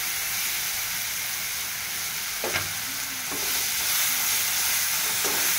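Sliced bananas frying in ghee in a kadai, a steady close sizzle with a few brief scraping stirs breaking through, no voices.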